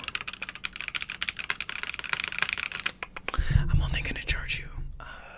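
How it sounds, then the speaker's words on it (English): Typing on a G87 plastic keyboard, a cheaper budget model, with rapid close light key clicks over the first few seconds, then louder handling thumps and rustle as the board is moved; soft whispering runs alongside. "So this is the G87. It's a plastic keyboard"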